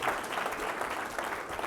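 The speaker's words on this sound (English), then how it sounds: "can we do a round of applause for yourselves?" An audience gives a round of applause for itself at a talk, the steady wash of many hands clapping together, fairly faint and continuous through the short span, with no voices over it.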